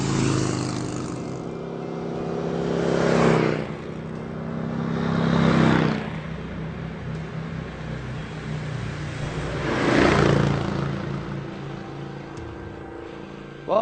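Harley Davidson Street Glide Special and Indian Chieftain motorcycles riding on a winding road, engines droning steadily with three louder swells as bikes pass close and fade back into a continuous rumble.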